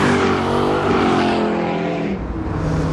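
An old, slow-revving car engine runs steadily close by, a continuous low droning hum with a slight rise and fall in pitch.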